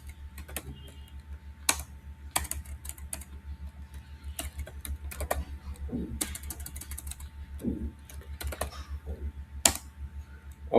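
Keyboard typing while HTML code is written, in scattered bursts of keystrokes of moderate loudness, with a low steady hum underneath.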